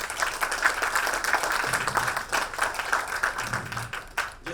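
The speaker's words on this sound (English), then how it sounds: "Give him another clap." An audience at a storytelling talk claps for a speaker, a dense, sustained patter of many hands that fades toward the end.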